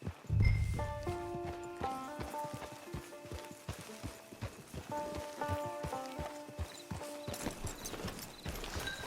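Steady clip-clop of horse hooves walking in Red Dead Redemption 2 over game music, with scattered taps and rustles; no talking.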